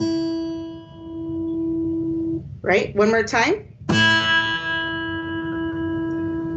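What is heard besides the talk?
bottom string of string instrument struck, ringing overtones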